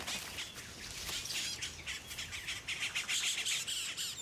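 Cacique birds squawk and chirp harshly in a noisy flurry while mobbing a toucan in the Guyana forest along the Essequibo, with continuous overlapping calls close by.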